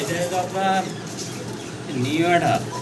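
Pigeons kept for sale at a market give soft, repeated cooing calls at close range, two clear bursts separated by a pause.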